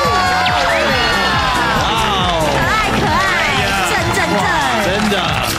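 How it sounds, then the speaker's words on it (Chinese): A studio audience on a Taiwanese variety show bursts into loud, sustained applause and cheering to welcome a rhythmic gymnastics family, with whoops, shouts and whistles piling over each other throughout. "让我们掌声来欢迎这个韵律体操家族"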